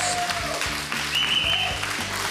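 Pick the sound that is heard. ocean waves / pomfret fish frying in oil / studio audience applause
studio audience applause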